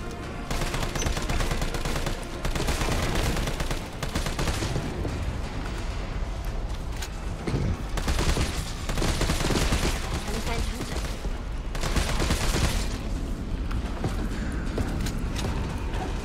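Sustained rattling gunfire fills a Resident Evil 3 Remake boss fight, dense and loud bursts running almost continuously with heavier blasts mixed in, under brief spoken remarks.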